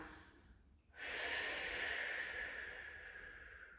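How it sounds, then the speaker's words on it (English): A slow, smooth exhale while holding a side plank in a core and foot workout for runners: one steady, close breathy rush that starts abruptly and lasts about three seconds, alone with no talk. "big smooth exhales down"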